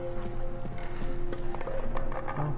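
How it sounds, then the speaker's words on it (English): Horse hooves clip-clop in the video game Deus Ex on PS4, a light run of hoof beats set against sustained game music and ambient tones. "A horse."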